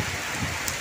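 Steady rain falling outdoors near a mosque in Tangerang, a dense, even hiss of drops on surfaces, fairly loud and continuous with no voices.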